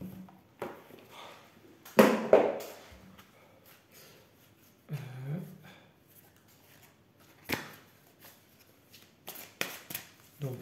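Oracle cards being shuffled by hand, with crisp riffling bursts and soft slaps scattered irregularly across the stretch, close and fairly quiet.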